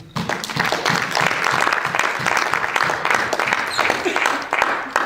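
A church congregation applauding, a dense, continuous wash of clapping from many hands that fills the whole stretch at an even, lively level.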